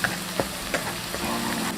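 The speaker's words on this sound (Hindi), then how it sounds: "बिल्कुल हल्का सा फ्राई करना है" Chopped garlic fries lightly in a pan with a close, steady sizzle, broken by a few sharp spatula taps and scrapes, and no voices over it.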